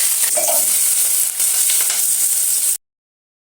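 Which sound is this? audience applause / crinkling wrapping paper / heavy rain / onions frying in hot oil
onions frying in hot oil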